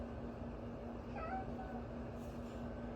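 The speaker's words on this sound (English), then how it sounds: "meow, what's up, Bree?" A cat gives a single short meow, fairly faint against a steady background hum, with no talk.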